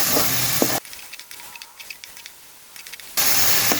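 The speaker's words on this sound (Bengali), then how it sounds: "এখন আমি মশলাটাকে কষিয়ে নিচ্ছি" Spice paste with ginger garlic paste sautéing in a pan for a small fish curry, a soft crackling sizzle with faint stirring scrapes, bracketed by louder broadband hiss at start and end.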